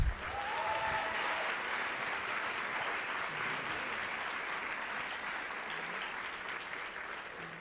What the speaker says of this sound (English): how about another round of applause for Allie?